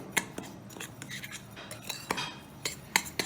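A spoon stirs cocoa powder and oil in a bowl, making repeated light metallic clinks and scrapes at an uneven rhythm, close and moderately loud, no voices.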